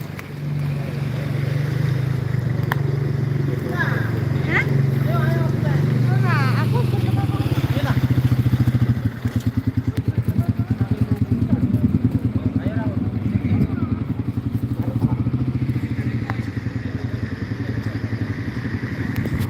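Dense motorcycle traffic crawls in a jam on the Pantura road between Demak and Kudus, with a steady low engine drone throughout and someone talking over it.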